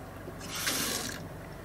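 Water from a custom off-grid water connection fed by a 2,500-gallon tank gushes out under good pressure, a steady splashing flow that swells loudly in the middle before easing back to a softer trickle.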